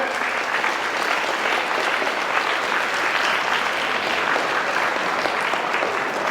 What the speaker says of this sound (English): Can you hear a big applause for that?